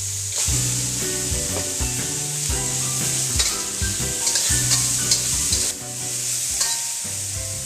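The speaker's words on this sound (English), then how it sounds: "after a minute of mixing the celery and the beef" Celery and beef stir-fry loudly in a hot pan, with continuous sizzling under a rhythmic scrape and clatter of a spatula tossing the pieces.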